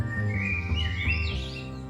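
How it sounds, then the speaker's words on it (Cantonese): A red-whiskered bulbul gives a clear, whistled, warbling call on an early morning walk, rising and falling over a steady low hum. "呢隻係紅耳鵯嘅叫聲"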